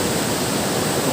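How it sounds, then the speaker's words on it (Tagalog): Water rushes and flows in a dense, steady wash of broadband noise, loud and close, with no voices. "Tumutulo pa yung tubig."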